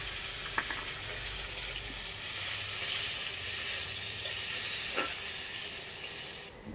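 Cashews and pre-washed raisins frying together in a pan for basanti pulao make a steady hissing sizzle, with a couple of faint clinks.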